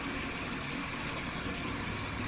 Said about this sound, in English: I usually fill it to the 350 or the 300 line with Downy, and then the rest of the way with hot water.